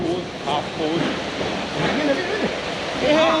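Water and bentonite slurry gushes out the end of a hose during line priming, a loud, steady rushing wash with splashing surges and a voice or two faintly mixed in.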